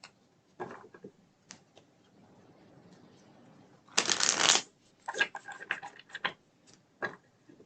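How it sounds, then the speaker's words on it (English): Tarot cards are shuffled close by: scattered light taps and flicks, then a loud riffle burst followed by a few more quick shuffling flutters. "Let's shuffle these other cards here."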